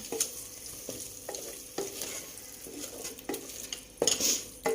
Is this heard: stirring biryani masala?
yes